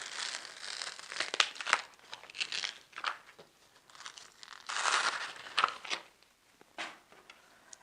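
Cut vinyl pieces being peeled off a Cricut backing sheet, soft crinkling and crackling in irregular bursts, close and fairly quiet.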